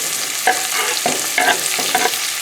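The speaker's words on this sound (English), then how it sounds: "we're going to throw in the anchovies, the garlic, the fennel, and the onions to saute" Anchovies, garlic, fennel and onions sauté in a pan with a loud, close sizzle, broken by repeated scraping stirs of a utensil across the pan in a quick irregular rhythm, with no talking.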